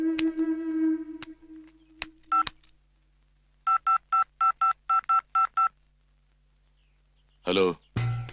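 A telephone number is dialed on a phone, first a few clicks and a held tone, then a quick run of about eight evenly spaced keypad beeps, followed by brief louder sounds at the end.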